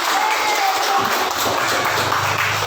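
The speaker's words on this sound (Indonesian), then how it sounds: "tepuk tangan buat kita semuanya" A classroom of students claps together at the end of a religious education lesson, a full sustained burst of applause that stays at an even level with a faint voice low underneath.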